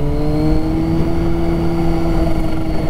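A Yamaha FZ1 motorcycle with a slightly sticking throttle pulls away, its engine giving a steady, loud, close droning note.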